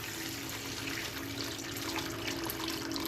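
Water running steadily into a red bucket for gold panning, a continuous close-up splashing pour with no talking.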